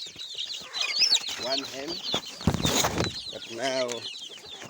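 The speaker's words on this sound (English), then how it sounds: "Here are the chicken." Chickens cluck and squawk up close in a village farm yard, a busy run of repeated clucks and calls with a brief rustling flurry in the middle, while a person speaks a few words over them.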